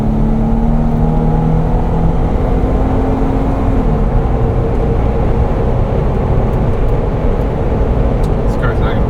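A 2016 Jeep Wrangler Rubicon's 3.6 liter V6 engine drones steadily at highway speed with constant road and wind noise; a voice talks briefly near the start.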